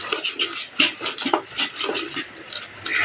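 Dishes being washed after breakfast in a home kitchen: a steady run of clinking cutlery, rattling plates and watery scrubbing, close and busy, with no talk.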